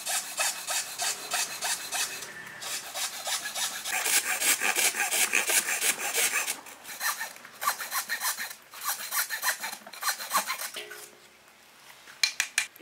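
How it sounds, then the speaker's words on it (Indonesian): A hacksaw cuts through a wooden bow limb with steady back-and-forth rasping strokes, loud and close, pausing briefly before the strokes resume and trail off. "sampai sini kita potong dulu pakai gergaji besi"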